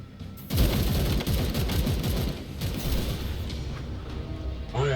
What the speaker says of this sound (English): So they're just laying down a bunch of cover fire.